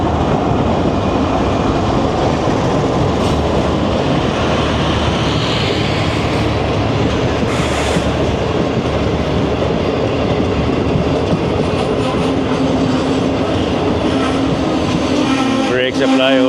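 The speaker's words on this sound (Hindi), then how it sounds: "और या तो ये ट्रेन स्लो स्पीड में क्रॉस करेगी या रुकेगी।" A train led by locomotive 9045 GU40 rolls past close by at slow speed, its steady rumble and wheel clatter filling the whole stretch before brakes bring it to a stop with a rising metallic squeal near the end.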